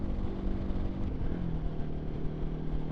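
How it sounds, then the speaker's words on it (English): A Kawasaki Versys-X 300 motorcycle rides along back roads, its engine a steady low drone with constant wind rumble, heard from the rider's position. "And certainly this bike will be capable of carrying a good average speed on the back roads."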